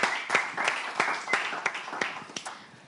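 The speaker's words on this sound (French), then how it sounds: "Le président du jury, M. Djossou, veuillez l'applaudir" Audience applause at a live event as a jury president is introduced, a scattered patter of hands clapping at moderate volume that slowly tapers off, with no speech over it.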